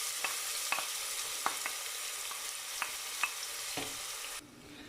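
Onions, garlic and ginger frying in a pan over medium heat for a venthaya kuzhambu, a steady close sizzle broken by sharp clicks and taps of stirring, cutting off abruptly near the end.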